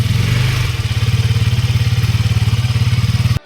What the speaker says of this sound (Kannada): ಗಾಡಿನ ತಗೊಂಡು ಹೋಗ್ತಾ ಇದ್ದೀನಿ